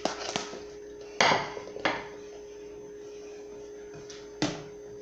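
Homemade mozzarella is turned out of its mold onto a plate: a few sharp clinks and knocks of dish and utensil, spaced apart, over a faint steady hum, with no talking.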